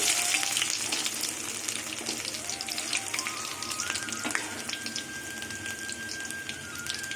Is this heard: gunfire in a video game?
no